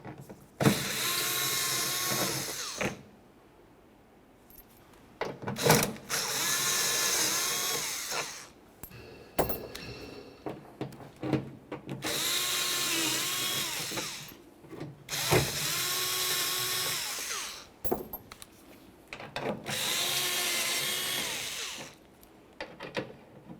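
A power drill backs out six T30 screws from the inside of a 2001-2005 Ford Explorer Sport Trac tailgate, with whirring bursts of a few seconds each separated by short pauses and clicks.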